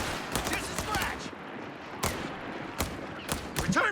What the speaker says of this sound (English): Oh, cheeky grenade there.